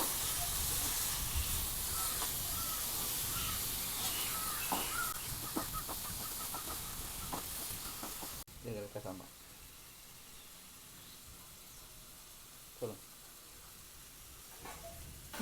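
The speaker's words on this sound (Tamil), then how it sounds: "எல்லாம் சேர்த்து நல்லா வதக்கிக்கணும்." Steady sizzling hiss of prawns frying with chili powder and salt in a hot pan, louder at first then quieter, with a few faint clicks and scrapes.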